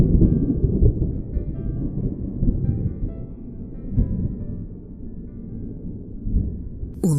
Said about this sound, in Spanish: Un trueno estalló lejos, en las profundidades de la noche.